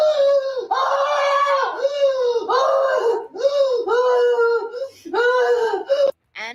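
A woman wails and screams in a long, wordless emotional meltdown, her cries coming in repeated rising, sobbing bursts for several seconds, loud and close with only brief breaks between them.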